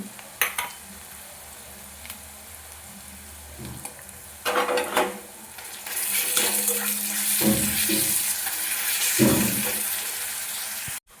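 Ginger garlic paste drops into onions already fried light brown in a pan, bursting into loud, steady sizzling and frying hiss with stirring scrapes, building from quieter intermittent clatter into continuous crackle.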